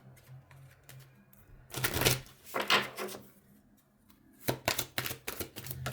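Close riffling and snapping of tarot cards being shuffled in a few quick bursts, with quieter handling sounds between them.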